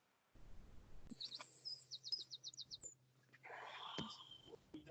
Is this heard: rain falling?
no